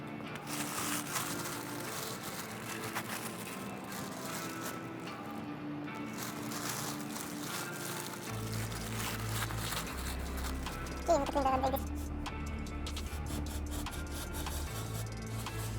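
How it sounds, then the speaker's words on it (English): Rust and dust being scrubbed off a Range Rover Evoque front brake assembly during a pad and rotor replacement, a steady close rubbing and rasping that runs throughout over a low background hum. "I'm cleaning all the rust and the dust inside and getting ready to put the new brake pads."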